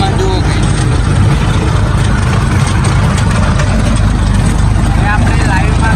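A tractor engine drones steadily while it tills a field with a rotavator, a loud, continuous low rumble filling the whole stretch, with a voice faintly audible beneath it.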